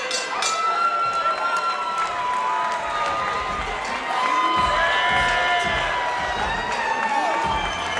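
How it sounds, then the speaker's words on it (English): A fight crowd roars and cheers without pause as the bout between Nuriel Henry and Noah Harrell enters its final seconds under heavy top pressure, with loud, dense shouting and whoops swelling slightly midway. "This crowd is going nuts."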